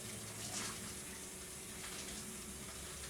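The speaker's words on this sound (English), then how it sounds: "I just run a little bit of hot water over them to kind of break them up a little bit." Hot tap water runs steadily over frozen bell peppers, a soft, even rush that holds at low level for a few seconds with no talking.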